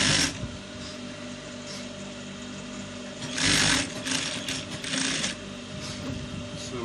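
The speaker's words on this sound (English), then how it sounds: "So I'm sewing my ½ inch down to the ending." Sewing machine stitching a half-inch seam on rope trousers, running steadily and close throughout with brief louder surges of rattling, no voices.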